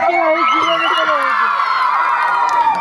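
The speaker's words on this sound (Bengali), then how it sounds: "তোদের হাতের আর মুখের জোরের মতন কুলকুলি সমাজ একটা হাততালি দিয়া তো।" Audience of women cheering loudly with excited shouts and high whoops, a dense wall of crowd noise filling the short stretch.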